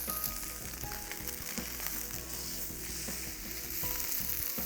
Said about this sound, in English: I'm going to use a little bit of oil, not too much, and sear the venison.